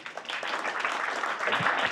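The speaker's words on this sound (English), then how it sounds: "if I could have a really warm round of applause" A short burst of applause from an audience, steady clapping filling the room for a couple of seconds.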